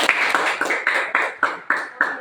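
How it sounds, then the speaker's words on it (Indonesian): Classroom students applaud a student group in a rhythmic unison clap, about eight evenly spaced claps in quick succession, close and fairly loud. "Kasih tepuk tangan untuk kelompok"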